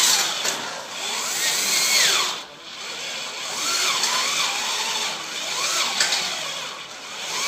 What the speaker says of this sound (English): we're drilling aluminum, we really don't need cutting fluid most of the time.